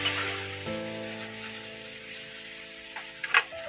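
Prawns dropped into hot oil in a kitchen pan, a crackling sizzle that settles into steady frying, with a few small knocks and clatters near the end.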